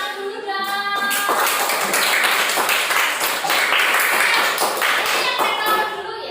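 A classroom of students claps together, dense rapid hand slaps that start with a few tonal voices and chatter, then swell into steady, close, lively applause lasting several seconds.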